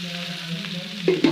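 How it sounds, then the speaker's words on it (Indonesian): Mustard greens dropped into a pan of fragrant pounded spice paste for sambal terasi with candlenuts, a steady frying sizzle with a low hum, then two sharper stir-fry bursts near the end. "Setelah bumbunya harum, kita langsung masukkan sawinya."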